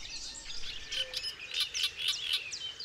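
Several warbler species sing in a Croatian wetland, giving a busy stream of high chirps and trills at moderate distance over faint background hiss.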